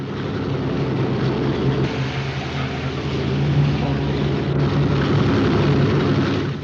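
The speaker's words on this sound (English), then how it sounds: "As soon as the plane goes, Louis." A steady, droning airplane engine roars continuously at moderate distance, with no break in the sound.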